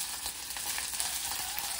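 Garlic, green chilli and ginger sizzle steadily in a hot pan as an early step of a Malvani crab masala, a continuous close hiss with faint stirring, no voices.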